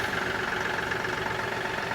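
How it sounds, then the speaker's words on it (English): Kioti NX compact tractor engine idling steadily in neutral, a continuous even diesel drone held at constant loudness from start to finish. "I'm going to start the tractor."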